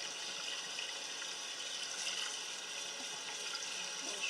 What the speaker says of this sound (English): I'm just rinsing it off right now in some cold water